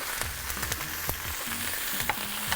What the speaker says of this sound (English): you just get some of your vegetables and get it out there and try to get it all seared